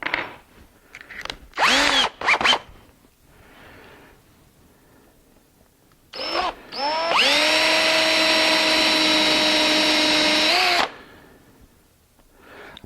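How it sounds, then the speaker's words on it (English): A power drill bores holes in wood with a bit sized to match the hole, giving short bursts of whine at first, then a long steady high-pitched run of about four seconds, loud and close with no talk. "Taking you a bit, same size as your hole,"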